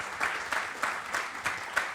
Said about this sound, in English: Can we give André Robert Lee a round of applause?